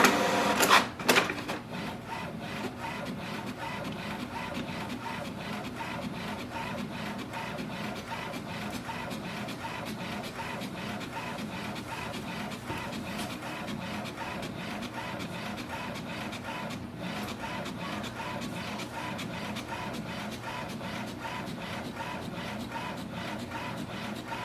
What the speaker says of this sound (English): Let's do color copy and give a print command.